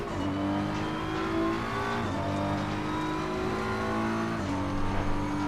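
A BMW race car engine at Bathurst in Assetto Corsa Competizione revs hard, its rising tone dropping sharply at each gear shift, loud and steady with faint tire noise and no talk.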